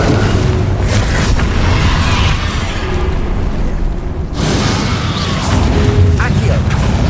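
A Bombarda spell exploding in the video game Hogwarts Legacy, with heavy booming blasts and rumbling impacts in a loud, dense stream of combat effects and game music.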